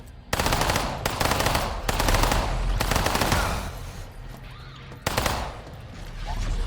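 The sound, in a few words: weapon gunfire in System Shock remake video game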